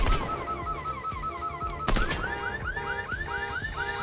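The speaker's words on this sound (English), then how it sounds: "the alarm sounds different depending on what car you hit." Car alarm going off after a car is struck in Fortnite, a looping electronic siren warble that repeats steadily and loudly, with a sharp impact bang midway and gunfire-like crackles underneath.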